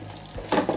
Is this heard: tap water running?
yes